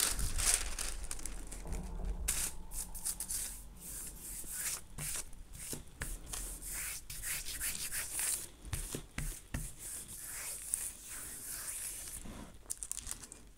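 Tissue paper handled and crinkled during gelli printing, giving continuous close rustling and crumpling with rubbing textures that swell and fade throughout.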